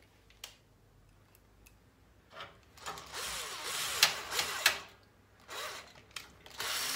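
Screws are driven in by hand while a gaming PC with a GTX 1070 is being assembled. Soft clicking and ratcheting ticks build into a dense stretch of scraping, metallic turning noise, close and fairly quiet, with no talk.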